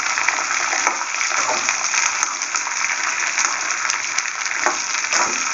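Sundakkai (turkey berries) frying in a pan, a dense steady sizzle with faint crackles and occasional stirring ticks, close and continuous with no talk.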